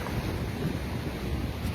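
Big ocean waves at Pantai Seger beach in Lombok, a continuous loud wash of surf mixed with heavy wind buffeting the microphone, with no voices.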